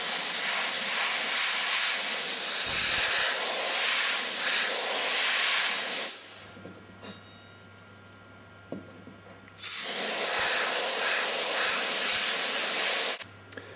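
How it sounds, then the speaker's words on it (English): Compressed air blasting alcohol off stainless steel electrolyzer cell plates: a loud, harsh hiss lasting about six seconds, a short pause, a second blast of about four seconds, then a brief final burst. "I use compressed air to wash away, to blow away the alcohol."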